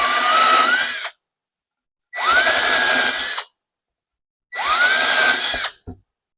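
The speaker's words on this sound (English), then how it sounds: "And now I will countersink them from the backside." A power drill countersinking holes in wood from the backside whirs in three separate bursts of about a second each, loud and close, spinning up and biting briefly into wood before stopping.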